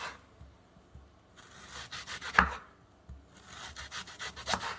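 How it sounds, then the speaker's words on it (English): Knife chopping onions into thin slices on a board, quick rhythmic bursts of close cuts with short pauses between, no talk. "So now we're just going to cut our onions."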